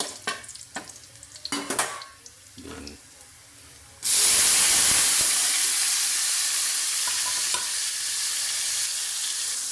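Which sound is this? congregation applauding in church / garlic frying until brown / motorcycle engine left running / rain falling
garlic frying until brown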